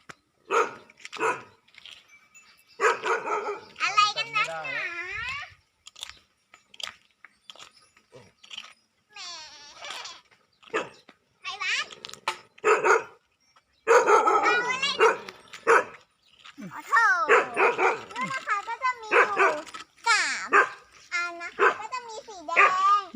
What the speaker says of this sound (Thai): ตอนนี้เจ้าไข่หวานก็ได้มาเห่าแล้วนะคะ